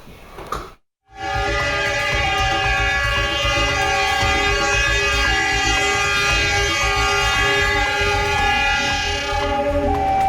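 A train horn sounds loudly and steadily near a railway crossing in Malang, East Java, blaring almost without a break for about nine seconds after a short gap as a locomotive with no carriages passes, with rumbling rail noise underneath.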